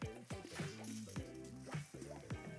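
Cooked pasta dropped and tossed into a pan of sauce made with salt pork, giving wet squelching and sloppy slaps in several quick bursts, close and fairly quiet.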